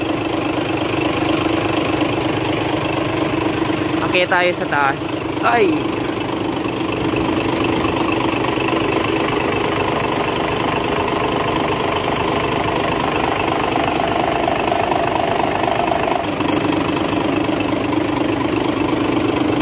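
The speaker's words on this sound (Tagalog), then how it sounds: "Kanyang makina 6WF1 naka inline injection pump." An Isuzu Giga Max truck's 6WF1 diesel engine with an inline injection pump idling at a steady, even churn, close and continuous, with a short spoken exclamation partway through.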